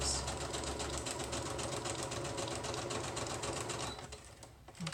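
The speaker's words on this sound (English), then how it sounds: "I'm turning it, and I'm going to sew along the bottom" A sewing machine zigzag stitching a paper-and-fabric junk journal pocket, a fast steady mechanical whirr with rapid needle clatter, close and even, slowing and stopping near the end.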